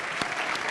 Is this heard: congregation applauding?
yes